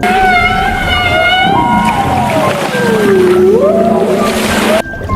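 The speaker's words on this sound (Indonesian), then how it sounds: "Paus beluga adalah paus putih yang suka bersuara lucu seperti sedang bernyanyi di bawah laut." Beluga whale calls: high, squeaky whistles and sweeping glides overlapping in a steady wash of underwater noise, ending abruptly.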